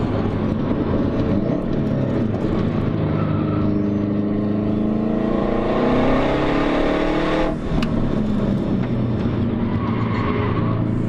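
A car lapping a race track at Carfest braking, downshifting and then accelerating through a turn, the engine note climbing steadily in pitch with tire noise, loud and close from inside the cabin.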